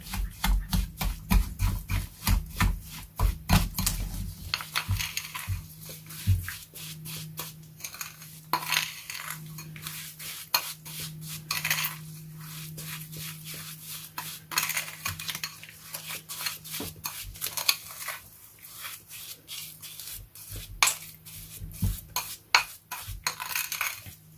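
DIY lip scrub ingredients stirred together in a small container, a steady run of scraping, clinking utensil strokes against the bowl, close and fairly quiet, with no talking.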